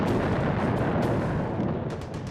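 Continuous World War I artillery bombardment, a dense roaring wall of gunfire and explosions with occasional sharper bursts, loud and sustained throughout with no talk.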